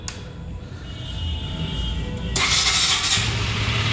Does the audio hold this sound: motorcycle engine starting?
yes